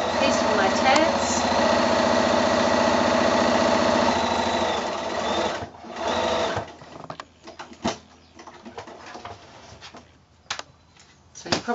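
A sewing machine runs a straight stitch down the side of a quilted shoulder-bag piece with tabs, a steady buzzing drone for about five seconds before it stops, leaving faint handling clicks and rustles.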